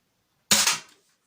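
A single sharp shot from a JetCeda S toy blaster fired at a target range, a loud close pop with a short decaying tail, then silence.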